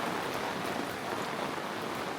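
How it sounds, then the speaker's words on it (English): Steady rain falling on Penglipuran, a traditional village in Bali, a dense, even hiss of drops on surfaces that holds at one level without a break and carries no voices. "Fantastic, nice rainy weather today."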